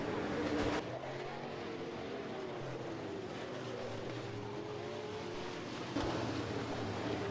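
B-Modified race cars roar around Rapid Speedway during a heat race, their engines blending into one loud, continuous drone that swells briefly near the start and end.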